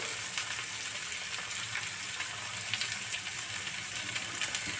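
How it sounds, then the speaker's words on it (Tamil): Fish coated in masala frying in a pan for a banana-leaf fish dish, a steady, close crackling sizzle with bright spitting pops running throughout, no talking. "மீன் நல்லா பொரியட்டும்"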